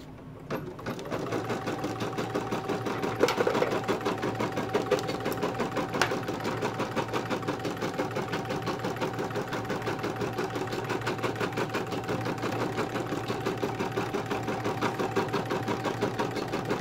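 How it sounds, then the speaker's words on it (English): An embroidery sewing machine runs a tack-down stitch on a stuffed-toy lovey, its rapid, even needle chatter steady and close for the whole stretch, with no talk. "you're going to put it back in the machine. And it's going to do a tack down stitch."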